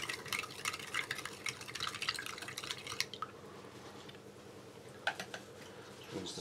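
A metal spoon stirs Norwegian Arctic field ration beef stew in its pouch, giving faint wet clicks and scrapes in irregular bursts that drop off to near quiet midway and then return.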